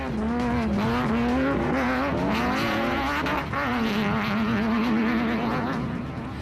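Rally cars in a production vehicle class pull away from the start line on a dusty course, engines droning loud and steady with rising and falling revs and a brief dip partway through.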